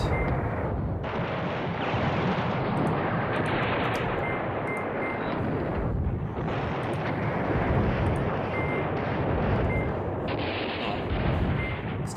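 Artillery fire in the wargame Command Ops 2, a dense, continuous rumble of booming shell impacts and gunfire, loud and sustained, with brief dips and faint high beeping interface tones.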